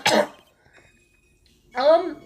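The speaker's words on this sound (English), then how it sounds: "could that stupid cough possibly sound any phonier?" Two short, harsh cough-like bursts from the video game Phoenix Wright: Trials and Tribulations, separated by a quiet gap, sounding deliberately exaggerated rather than natural.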